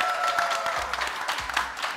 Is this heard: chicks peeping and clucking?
no